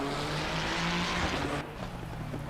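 Racing car engines in a video game, GT3 cars at Imola, roar together in a dense, steady drone that suddenly drops in pitch and loudness, like a gear change.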